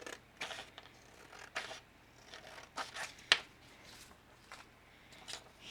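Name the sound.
scissors cutting out a paper rectangle for a journal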